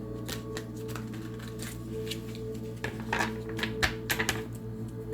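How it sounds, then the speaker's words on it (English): New, slippery tarot cards being shuffled by hand, a run of soft riffling and tapping bursts close by that grow busier and louder toward the end, with no talking. "Shuffle one more time, and we'll get a couple cards for the collective."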